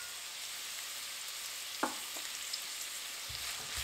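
Bell peppers sauté in a pan for shrimp fried rice, giving a soft, continuous low sizzle with a single sharp clack of a utensil partway through. Quiet and close, with no one talking.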